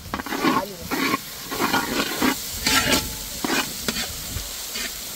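Onions frying in a pan with garlic and ginger for a Tamil mushroom gravy, giving a steady sizzle broken by repeated stirring scrapes in bursts, fairly close and with no talk.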